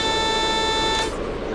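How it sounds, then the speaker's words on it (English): AWS alarm sounding inside a Class 101 diesel train cab, a loud steady electronic buzz-beep tone lasting about a second before cutting out, over cab rumble, with no talking. "That's the other AWS alarm."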